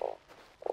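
A frog in the desert survival game Starsand gives two short, buzzy croaks, each a fraction of a second long, separated by a brief quiet gap, loud and close with no voices.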